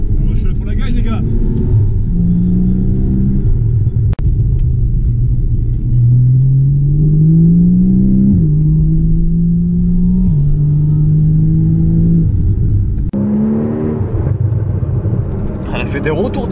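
From inside a Ferrari 812 Superfast, the engine drones loudly and steadily while its pitch climbs and drops through repeated rises in revs, with a sharper burst near the end and people talking over it.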